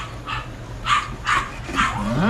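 A dog barks close by in about four sharp bursts, the last ones edging into whiny yips, with no one talking.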